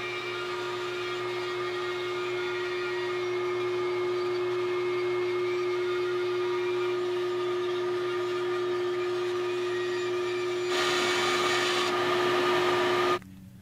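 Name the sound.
bandsaw cutting guitar mold template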